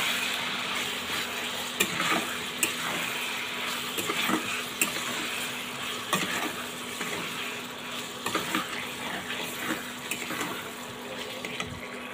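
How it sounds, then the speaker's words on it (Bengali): Spices with turmeric and chili powder are stirred in a hot pan, a close scraping and sizzling with repeated clicks of a spoon against the pan, steady and without talk. "দিয়ে এগুলোকে একটু নাড়াচাড়া করে দেবো এখন।"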